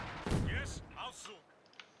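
Gunfire crackles in a Company of Heroes 2 multiplayer 1v1 battle between Wehrmacht and US forces: a loud burst of shots early on, then scattered fainter pops, with game voices talking over it.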